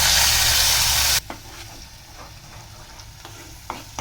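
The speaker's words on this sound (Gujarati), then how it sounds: "વઘાર થઈ જાય એટલે આપણે તેમાં ટમેટાની પેસ્ટ કરી છે" Tomato paste goes into a ghee and oil tempering of cumin, curry leaves and dried red chillies for moong dal. A loud, close burst of sizzling drops into a quieter sizzle broken by light stirring scrapes.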